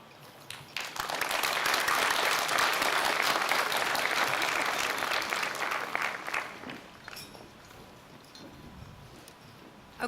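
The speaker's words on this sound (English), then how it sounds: "We're going to hear a big round of applause." Sustained applause fills the hall at Manchester Community College's 51st annual commencement ceremony, a dense crowd roar of clapping that swells quickly, holds for several seconds, then tapers off to a thinner patter.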